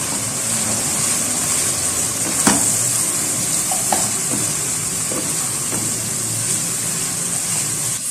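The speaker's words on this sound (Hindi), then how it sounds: "जस्ट 1 से 2 मिनट इसको भूनें।" Chicken jalfrezi frying in a pan, a loud, steady sizzle and hiss throughout with occasional stirring knocks, close up and without talk.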